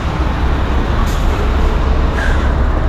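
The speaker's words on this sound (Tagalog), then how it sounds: "Daming truck." Trucks in heavy night traffic in Marilao, Bocaue area, a loud continuous roadway rumble with engine drone and brief hissing, likely from air brakes.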